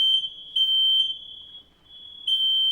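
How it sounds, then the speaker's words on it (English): A smoke alarm sounds close and loud with a piercing, steady high-pitched tone that pulses briefly and dips once before resuming. "My fucking fire alarm is going off."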